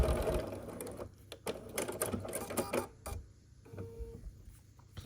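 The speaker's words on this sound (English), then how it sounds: "I'm sewing using 1/4 inch" Sewing machine stitching quilt pieces for a nine-patch block at a quarter-inch seam: fast mechanical needle rattling in bursts with brief pauses and a short whirring stretch, close and fairly loud, no speech.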